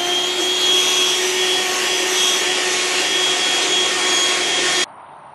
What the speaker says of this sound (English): Let me use my vacuum cleaner.